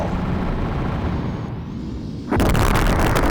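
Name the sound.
strike cannon exploding in video game Colony Wars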